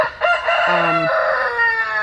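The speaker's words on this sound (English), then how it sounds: "I've got a rooster over there cutting up" A rooster crows once, loud and close, a long rising and falling call with no other sounds around it.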